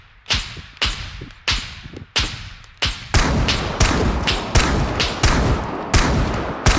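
Unsilenced gunfire in a video game: sharp, loud shots, first spaced single blasts roughly every half second, then a faster, denser run of repeated shots over a raised background.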